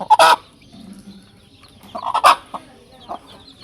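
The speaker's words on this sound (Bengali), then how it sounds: "মুরগির যে বাচ্চা কতগুলো, মুরগিটা কিন্তু সুন্দর, মুরগির বাচ্চাগুলো সুন্দর হবে।" A hen with nine chicks clucks in a few sharp bursts close by, with softer peeps and chatter from the chicks between the louder calls.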